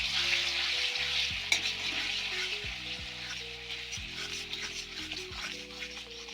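A spice paste for a prawn and taro curry is being fried and stirred with a splash of water. It gives a steady, close sizzle with light stirring over quiet background music.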